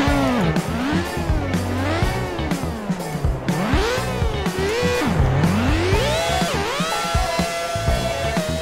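A car racing along a track in the crash game Turbo Dismount, its engine whining up and down in pitch through repeated revs and shifts, loud and close, with tire squeals mixed in.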